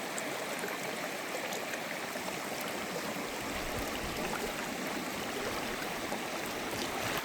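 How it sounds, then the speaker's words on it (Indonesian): Flood water of the Batang Toru river rushes past a broken embankment, a steady broadband roar of fast-flowing water heard close and continuous for the whole stretch, with no talking. "Airnya semakin deras"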